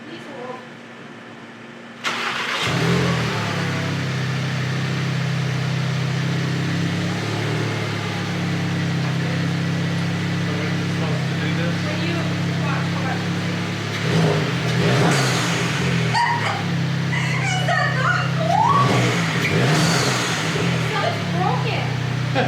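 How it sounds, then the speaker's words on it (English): Turbocharged VW GTI MK7 engine fitted with a blow-off valve, starting up and then idling with a steady low drone, broken by a few sharp revs near the end; people talk over it. "We got done putting on my blow-off valve."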